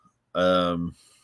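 One short, loud, voiced sneeze bursts out of near silence and ends abruptly.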